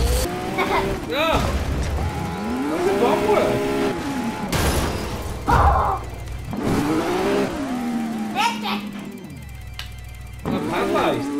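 A car crashing and being wrecked in the FlatOut 4 racing and destruction video game, loud engine revving and sweeping pitch, with heavy impacts and booms, while a person talks excitedly over it.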